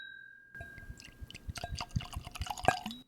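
Bunnahabhain Scotch whisky poured into a glass, a close trickling splash with small drips and clinks rising over a couple of seconds after a brief quiet start.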